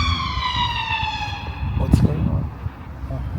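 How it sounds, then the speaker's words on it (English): An ambulance or police siren wails in the distance, its rising and falling tone carried over street noise with a brief thump partway through. "think that's a ambulance or police"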